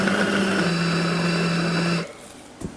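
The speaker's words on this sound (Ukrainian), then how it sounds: "Нарізаємо куряче філе і мелимо в блендері." Steady high-pitched whine of a blender grinding chopped chicken fillet for two seconds before cutting off abruptly, leaving a brief clunk afterward.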